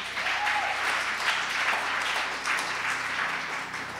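Church congregation applauding steadily and loudly throughout, a dense wash of many hands clapping at once with no voices standing out.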